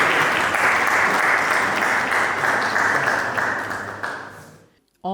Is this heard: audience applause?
yes